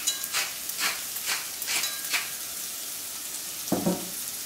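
Sliced zucchini frying in a pan, a steady soft sizzle broken by several rhythmic scraping stirs.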